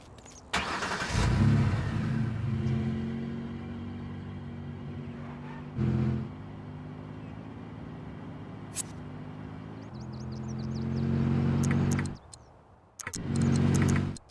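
Video game car engine rumbling at idle then driving off, a steady mid-pitched drone with a few louder revving bursts, moderately close and without talk.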